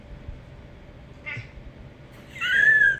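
A pet cat named Cooter meows twice, a short faint mew followed by a louder drawn-out meow, close by with a quiet room background.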